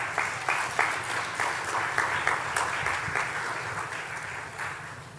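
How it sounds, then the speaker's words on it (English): Applause for graduating students at a university recognition ceremony, a steady roomful of clapping with rhythmic individual claps standing out, sustained throughout and tapering slightly at the close. "Let's applaud for these students."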